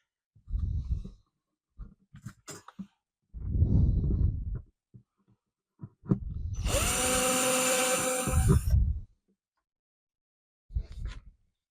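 An electric drill whines for a few seconds, loud and steady, between quieter thumps and handling noises, drilling a hole during a guitar bridge reglue.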